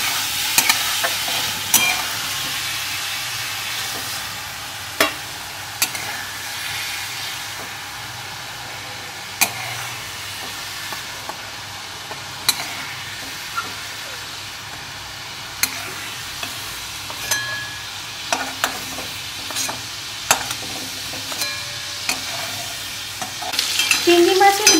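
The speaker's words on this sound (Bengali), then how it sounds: "চিংড়ি মাছটা আমার ভাজা হয়ে গেছে" Prawns fry and get stirred in hot oil in a pan, a steady close sizzle broken by sharp scraping clicks and spatula knocks at irregular intervals, with no voices.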